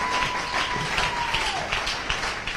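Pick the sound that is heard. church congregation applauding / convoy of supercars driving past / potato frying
church congregation applauding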